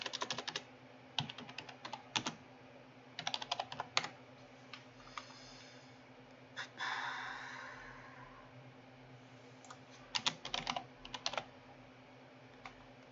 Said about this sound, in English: Sorry for my terrible, terrible typing.